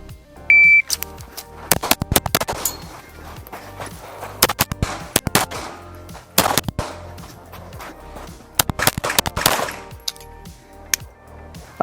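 A shot timer beeps, then a Staccato P pistol fires a long string of sharp, loud gunshots, spaced irregularly with pairs and short pauses between groups.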